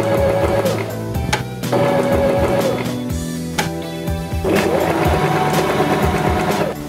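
Janome 523H sewing machine stitching a zigzag, bursts of rapid mechanical whirring and ticking that stop and restart several times, close and loud.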